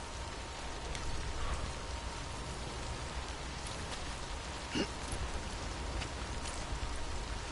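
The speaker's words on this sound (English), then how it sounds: "Rain's not letting up, is it?" Steady rain falls in the video game Death Stranding, a dense, even patter of drops on surfaces that continues without a break throughout, with a faint brief rumble partway through and no speech.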